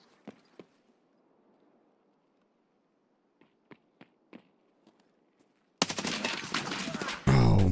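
Gunfire in the video game Escape From Tarkov: a few faint, scattered single shots, then a loud, dense, sustained burst of rapid firing close by that fills the final seconds.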